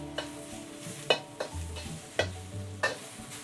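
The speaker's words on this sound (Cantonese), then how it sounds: "慢慢炒，慢慢辣香佢" Onions and yellow chives stir-fried in an iron wok for beef chow fun: a steady close sizzle punctuated by about five sharp metal spatula scrapes and clanks at uneven intervals, with a low hum underneath and no talking.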